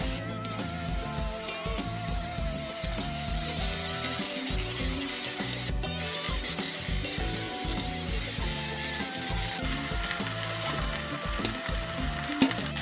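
Puffed rice tipped into roasted spice masala in a pan and stirred through, a close continuous scraping and rustling with a faint sizzle, steady and moderately quiet, no voices.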